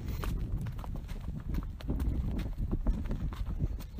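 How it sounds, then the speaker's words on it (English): Hooves of a large thoroughbred horse walking down a steep trail on a group trail ride, a steady near clip-clop of footfalls on the ground with no talking. "giant thoroughbred going downhill right now"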